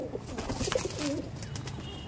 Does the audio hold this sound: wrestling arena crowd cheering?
no